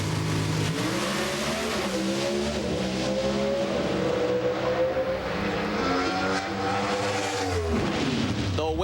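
An NHRA drag racing car runs down the track at the 2005 Fall Nationals, its engine roaring loud and steady the whole time, with a rising pitch sweep near the end. No one speaks.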